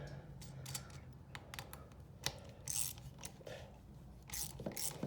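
Exhaust hanger hardware on a Buick Grand National is tightened down with a ratcheting tool, giving a stream of close metallic clicks and ratchet pawl bursts with brief pauses between them.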